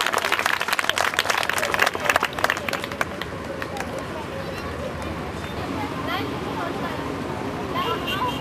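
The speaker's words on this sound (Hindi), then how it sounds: "मैं चाहूंगी जोरदार तालियों से आप उनका स्वागत करें।" An audience at a Children's Day 2011 event in India applauds to welcome a guest, a dense burst of clapping that thins out after a few seconds as a voice talks over it.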